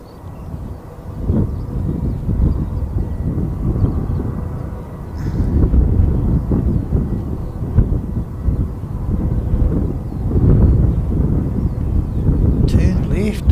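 A Jetstar airliner flies past, a broad steady roar rising and fading in waves under strong wind buffeting on the microphone.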